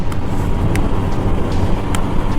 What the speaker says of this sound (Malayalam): ആ സ്റ്റോക്ക് എക്സോസിൽ നിന്ന് വരുന്ന ആ ഒരു സൗണ്ട് ഉണ്ടല്ലോ